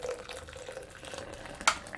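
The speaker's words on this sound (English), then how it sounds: "Now I'm just going to add my water." Water poured from a kettle into a mug holding instant coffee and sweetener, a faint steady trickle under soft room noise with a brief clink near the end.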